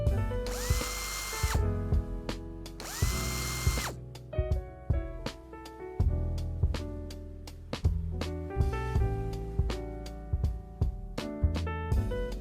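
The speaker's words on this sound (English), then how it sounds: "Remove the 4 bolts holding the shifter assembly" Power tool driving out bolts on a 2019-or-later Hyundai Veloster Turbo shifter assembly: two long whirring bursts, then a rapid train of sharp ratcheting clicks, close and alone.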